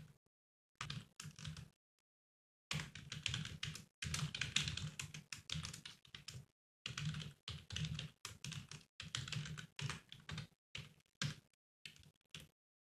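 Quick typing on a computer keyboard while writing JavaScript code, with close, crisp key clicks in bursts separated by short silent pauses and no talking.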